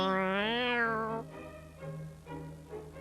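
A cat meows loudly once with a long rising-falling cry, followed by two shorter, softer meows, close by against a faint background hum.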